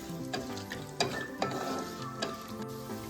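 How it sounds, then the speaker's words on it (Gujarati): Dry fruits roast in a pan over a low flame, giving a continuous close crackling sizzle with several sharp stirring clicks and scrapes, no talk. "ધીમી આંચ ઉપર બે જ મિનિટ માટે આપણે શેકી લેશું"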